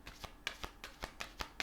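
Oracle cards are shuffled and drawn by hand, making a quick run of soft, evenly spaced riffling flicks and slaps, close but faint, with no talking.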